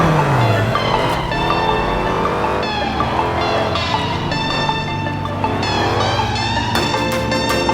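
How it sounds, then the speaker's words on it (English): A car drifting in Forza Horizon 4, its engine revving and whining loudly through rising and falling gear sweeps with tire squeal, continuous and close, backed by game music. "how about trying a little drift?"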